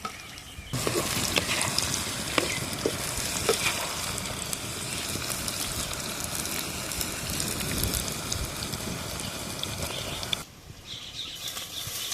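Loud, continuous sizzling and crackling as village-style country chicken meat is tossed into sautéed onions in a hot pan, rising abruptly and then easing off near the end.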